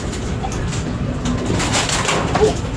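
Soft pigeon cooing sounds a few times amid faint background noise, low and muffled, with no talking.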